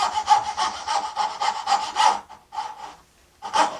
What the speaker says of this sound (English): What I'm doing here is just using my fret saw